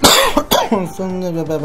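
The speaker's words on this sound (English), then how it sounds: "I'm sorry for coughing throughout these few videos" A couple of sharp coughs burst out close up, followed by a short vocal sound.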